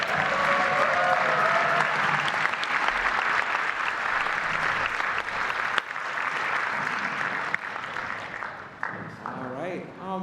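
An audience at a school orchestra concert applauds the student symphonic orchestra, a loud, full wash of clapping that holds steady, then thins toward the end as a voice begins speaking over the last claps.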